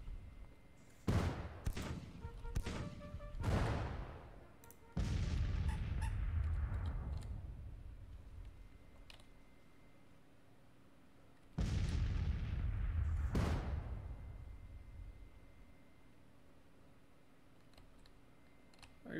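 Civil War artillery firing in the strategy game Grand Tactician: a few sharp cannon blasts early on, then two heavy booming shots with long rumbling decays, loud and alone.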